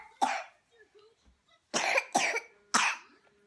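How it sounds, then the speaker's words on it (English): A sick toddler girl coughs hard in fits: one harsh cough, a short pause, then three forceful coughs in quick succession, close and loud in a quiet indoor room. "you're going to make yourself puke by coughing so hard"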